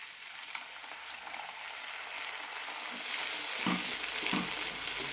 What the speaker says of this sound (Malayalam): ഇത്രയും മതി ഇനി ഇതിലേക്ക് പുളി ഒഴിക്കാം